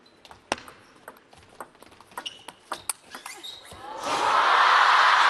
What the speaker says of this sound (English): You just hear the shuffling and the squeaking of the shoes on the floor.